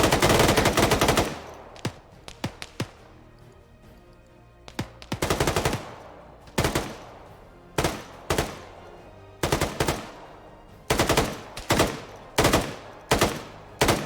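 Automatic machine-gun fire in Arma 3, loud close bursts: a long opening burst followed by a string of short repeated bursts with brief pauses between them.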